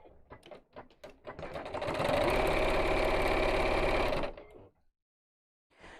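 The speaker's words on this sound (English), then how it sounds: "We'll just sew straight down each side." A sewing machine stitches a straight seam down the side of a fabric piece, a steady close mechanical whir lasting about two seconds before it stops, with brief soft handling sounds first.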